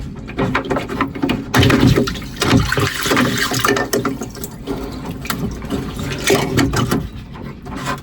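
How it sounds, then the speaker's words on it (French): Water flowing into a sailboat's hull after a breakage makes a steady gurgling, trickling wash, close and fairly loud, mixed with knocking and rattling from the boat. "je vois de l'eau arriver"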